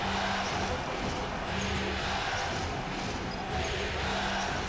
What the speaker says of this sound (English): This crowd is super loud.